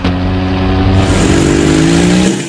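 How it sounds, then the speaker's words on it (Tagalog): A motorcycle engine revs loudly and steadily, its pitch climbing slightly as it speeds up, then cuts off abruptly near the end. "Iya gipikis-ikis ang dagan sa motorsiklo."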